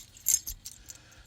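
Two dimple-design keys for a chrome-plated, hardened-steel Abus padlock jangle briefly and close by, a sharp metallic clink followed by a few lighter rattles that quickly die away.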